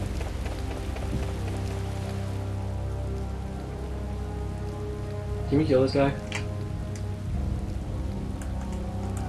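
Steady rain falls throughout a rainy scene in the video game Tales of Vesperia, a constant wash of drops beneath game music, with a brief burst of a man's speech in the middle.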